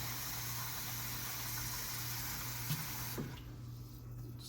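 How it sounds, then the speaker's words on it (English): Rice being washed in a pot of water for Indian chole pulao, a steady rushing wash of water over a low hum that thins and quiets in the final second. "I do just wash the rice for 2 or 3 times"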